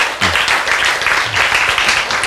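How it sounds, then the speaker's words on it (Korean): A congregation at a church sermon breaks into brief, scattered applause, a short burst of clapping of moderate loudness with some voices mixed in. "박수."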